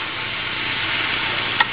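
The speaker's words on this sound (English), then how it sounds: "You can hear the sound of the sizzling somewhat decreasing." Vegetables sizzle in a hot pan during a veggie stir-fry with brown rice, a steady dense hiss that holds nearly constant throughout, close and fairly loud, with a brief sharper crackle near the end and no talking.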